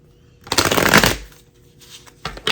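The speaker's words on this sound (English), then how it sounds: "I'm going to do 5 shuffles for these" A deck of tarot cards shuffled by hand, two bursts of riffling and rustling, the first long and full, the second shorter, close and fairly loud.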